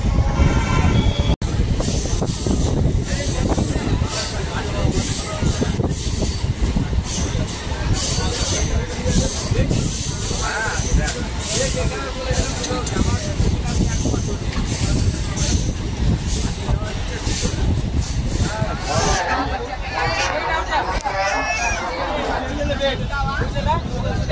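A local train running from Sealdah to Barddhaman rumbles steadily and loudly throughout, its rail noise and carriage rattle blending with background crowd babble of passengers.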